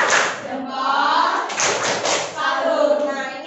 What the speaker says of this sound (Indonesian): Kasih dulu tepuk salut untuk kelompok ini